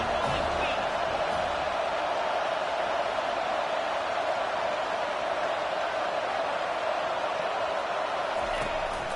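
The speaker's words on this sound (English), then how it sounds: "this crowd is turning it up a notch" A football stadium crowd roars loudly and continuously, a dense sustained wall of cheering with no breaks, while a commentator talks over it.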